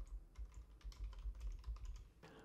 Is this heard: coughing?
no